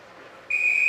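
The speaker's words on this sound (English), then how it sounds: "It went off the shin pad of Matty Donovan, which is offside, and that gets a whistle" Referee's whistle blown during a boys' high school ice hockey game to stop play for offside, a single sharp, loud sustained blast that cuts in abruptly over faint arena noise.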